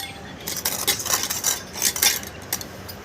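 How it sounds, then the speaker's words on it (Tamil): Chopped onions are tipped into a pan for a village-style omelette, giving a quick run of clinking, scraping metallic clatters and light rattles over a couple of seconds, with no talking. "வெங்காயத்தை கொட்டிட்டோம்."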